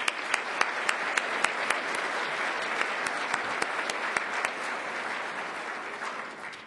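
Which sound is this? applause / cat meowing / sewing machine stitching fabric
applause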